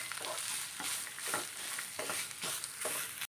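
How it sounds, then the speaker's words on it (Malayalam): Grated coconut with curry leaves sizzles in a pan for banana-stem erissery while a spoon stirs it in steady, rhythmic scraping strokes, about six passes, close up and quiet, with no talking. "നമുക്കൊന്ന് വറുത്തെടുക്കാം"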